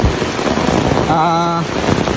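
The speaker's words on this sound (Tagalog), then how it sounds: "kahit malakas yung ulan" Heavy rain falls steadily and loudly throughout, a dense continuous hiss, with a brief tonal sound rising through the middle.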